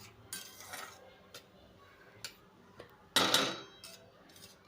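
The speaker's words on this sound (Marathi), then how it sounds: "जेणेकरून तो करपला जाऊ नये आणि सतत हलवावा, त्यामुळे रवा हा करपत नाही आणि तो नीट भाजला जातो." Semolina roasting in a pan for sheera, stirred with a metal spoon that scrapes and clinks against the pan in sparse, quiet strokes, with one louder scrape.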